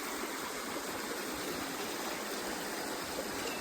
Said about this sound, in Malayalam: തോടാണ്